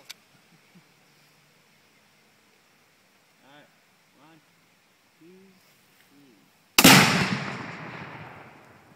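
Tannerite target struck by a 30-30 rifle round detonates in one sudden, loud outdoor blast, splitting a log, its roar trailing off over a couple of seconds after a few short, quiet voices.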